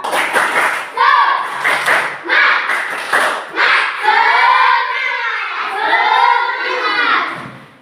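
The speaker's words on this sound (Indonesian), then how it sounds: "Lagi tepuk semangat" A group of children claps a rhythmic cheer in a classroom, with sharp claps in a set pattern. Loud shouted chanting from the children runs between and over the claps.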